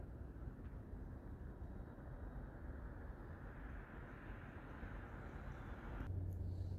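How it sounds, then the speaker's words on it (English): CSX freight train rounding a bend near Hood Siding, a faint, distant, steady low rumble that swells slightly louder toward the end, with no voices. "You can hear the train rounding the bend."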